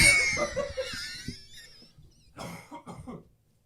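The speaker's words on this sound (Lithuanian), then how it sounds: "Palauk, aš negaliu atsikrenkšti." Someone coughs hard and clears their throat up close, one rough burst followed by a short pause and then a few more strained throat-clearing sounds.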